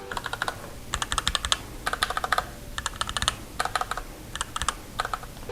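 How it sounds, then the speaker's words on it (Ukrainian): Typing on a wired Varmilo keyboard fitted with Cherry MX Red switches: close, fast bursts of light keystrokes in several runs separated by short pauses, with no talk. "Тут ми маємо червоні перемикачі, я вже за них говорив, Cherry MX Red."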